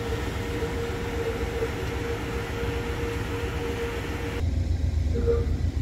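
An Amtrak Coast Starlight train stands at a station stop, giving off a steady, moderately loud idling hum with a faint tonal drone; the sound shifts abruptly to a lower, rougher rumble near the end.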